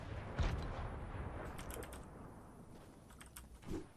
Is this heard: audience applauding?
no